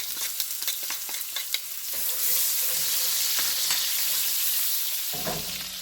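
Onion whites hit hot oil for chicken chow mein, a loud, close frying hiss that swells into a steady sizzle, with some stirring scrapes and clatter early on.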